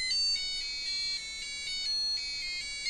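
A USB alarm clock plays a high, thin electronic alarm tune in repeating pulsed phrases, fairly quiet and close, with no one talking over it.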